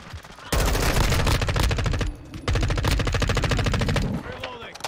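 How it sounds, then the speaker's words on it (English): Rapid automatic gunfire from an MP7 in Modern Warfare 2: two long, loud, tightly rhythmic bursts split by a brief pause, ending with a quieter tail. "Oh, he's shooting me underneath the cars."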